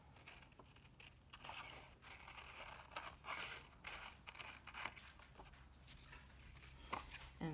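Scissors snip through paper to cut out a heart shape, making a faint, close run of crisp crunching cuts with light rustling of the sheet between them.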